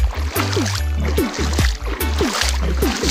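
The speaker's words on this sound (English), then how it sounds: "Water source, overflowing water, non-stop." Spring water at Mataniwai, Viani Bay overflows non-stop, splashing and gurgling loudly and continuously nearby.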